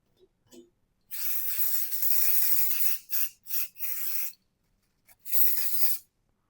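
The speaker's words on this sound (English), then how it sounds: "Put a bit of spray on the bottom just so they don't stick." Bursts of cooking oil spray hissing onto the bottom of a preheated air fryer basket: one long spray, then several short quick puffs and a final burst, close and fairly loud with no talking.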